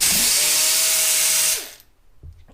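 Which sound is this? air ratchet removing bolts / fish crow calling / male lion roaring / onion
air ratchet removing bolts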